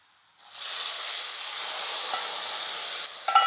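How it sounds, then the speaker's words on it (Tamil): Hot oil is poured into tamarind paste and bursts into a loud, steady sizzle that hisses on for a few seconds, ending with a couple of sharp pops. "இப்போ ஸ்டவ் ஆஃப் பண்ணிவிட்டு புளி தொக்கில் ஊற்றிக்கலாம் அந்த எண்ணெயை"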